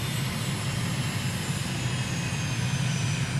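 Aircraft engine in a flight simulator game throttles back for landing, a steady droning roar with broadband hiss that holds even throughout, with no speech.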